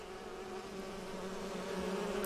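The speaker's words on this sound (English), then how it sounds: "God, the bees are fucking everywhere." Bees buzz in a swarm in the Enderal video game, a steady droning hum that holds at a constant level throughout with no voices over it.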